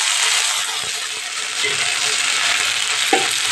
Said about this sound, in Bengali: দিয়ে একটু নেড়ে নেব।